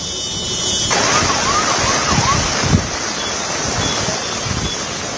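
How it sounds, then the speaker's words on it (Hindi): Floodwater of the swollen Tawi river in Jammu rushes past in a loud, continuous broadband roar. The sound stays steady throughout with no talk over it. "तावी नदी है जम्मू में, तो जी कुछ वहां का नेचुरल साउंड कुछ है वो सुनते हैं।"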